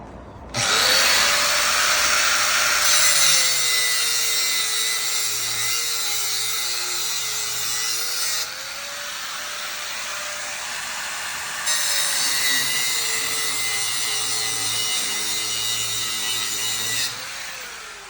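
A loud power tool grinds and saws through a metal bolt while clearing up after a strike on a theatre, running continuously for most of the time with a brief lighter pause midway, close and harsh.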